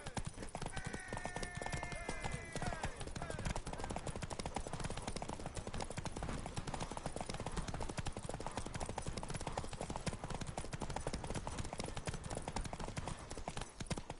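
Roach, a horse in The Witcher 3: Wild Hunt, gallops in steady rapid clip-clop hoofbeats that run loud and close the whole time, with a brief whinny early on over dense game background sound.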